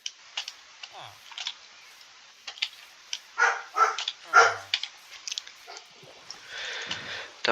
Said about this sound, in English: Don't mind my dog. He heard the door open.